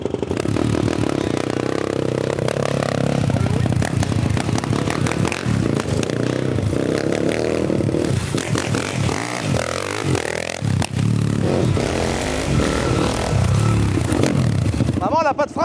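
A freshly rebuilt motorcycle engine being run in revs up and down in loud, uneven bursts with clattering mechanical noise, close by, while people talk intermittently over it.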